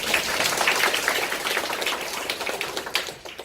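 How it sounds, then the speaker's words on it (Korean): A lecture audience claps together in a burst of applause, many hands sounding as crisp, close patters that start strong and gradually thin out toward the end. "이해돼서 박수를 한번 칩시다"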